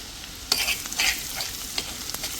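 Garlic, red chilies and asafoetida sizzling in hot oil, a close bright crackle with several sharp spits and stirring scrapes breaking through a steady frying hiss; no one speaks.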